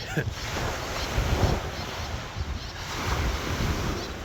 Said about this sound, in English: Oh, the waves crashing.